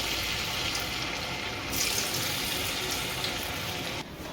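Balls of raw grated potato deep-fry in medium-hot oil, giving a dense, continuous, close bubbling hiss that stays loud and even, then drops slightly near the end.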